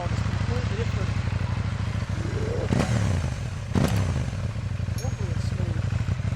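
A KTM 790 Duke motorcycle engine idles steadily up close with a firm, even drone, and a couple of sharp clattering knocks cut through partway, while someone talks over it.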